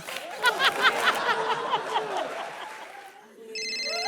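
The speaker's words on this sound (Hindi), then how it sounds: "अब मेरा फोन आ गया" A mobile phone ringtone starts near the end as a clear electronic tone on a comedy show stage, following a stretch of audience laughter and chuckling.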